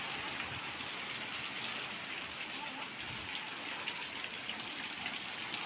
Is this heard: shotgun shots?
no